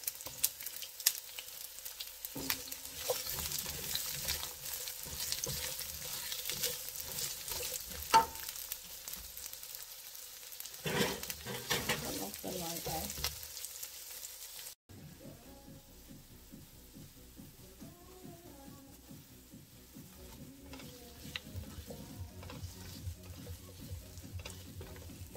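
Onions frying and sizzling in a pan for a Spanish tongue (lengua) dish, a steady crackle with occasional stirring scrapes, changing partway to a quieter, rhythmic sizzle.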